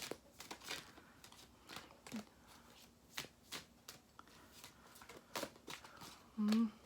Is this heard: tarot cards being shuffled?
yes